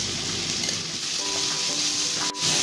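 Sliced onions sauté in a pan for Kerala-style fish molly, giving a steady, continuous sizzle that stays even and close throughout, with no voices.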